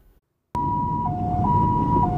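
An on-duty ambulance in the inner traffic lane sounds a loud, steady two-tone siren that starts abruptly and alternates pitch, with car traffic rumbling beneath it.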